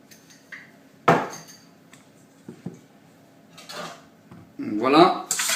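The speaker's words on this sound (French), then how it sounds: "je mélange" Eggs and sugar for a cherry, hazelnut and chocolate clafoutis are mixed in a bowl, with sharp clinks and clatters of a utensil against the dish, scrapes, then a burst of fast whisking near the end.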